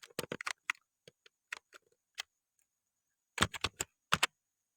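Someone types a name on a computer keyboard in MS Word: quick, crisp keystrokes in short clusters separated by pauses, close and quiet, with no talking.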